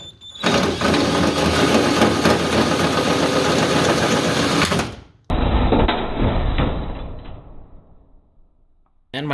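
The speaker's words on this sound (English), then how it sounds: "I am gonna hole saw those holes right there" A hole saw bores through the door panel of a 1983 Buick Regal G-body, a loud, steady grinding whine for about five seconds, then a short pause and a second, thinner cut that winds down and fades out.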